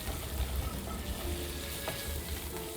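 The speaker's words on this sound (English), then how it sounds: "Add in the curry leaves and you can add the peanuts as well. Now toast all of these together for a minute or so." Curry leaves and peanuts toast together in a pan, giving a faint, even sizzle and light crackle that holds steady and close, with no speech.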